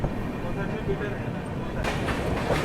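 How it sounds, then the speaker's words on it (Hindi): The 22221 Mumbai CSMT–Hazrat Nizamuddin CR Rajdhani Express runs on the rails into Jalgaon Junction in fog, giving a continuous low rumble. Clickety-clack wheel beats and brighter rattling bursts come in toward the end. "यहाँ पर अपनी अभी सीआर राजधानी एक्सप्रेस पहुँच रही है जळगाव जंक्शन रेलवे स्टेशन पर"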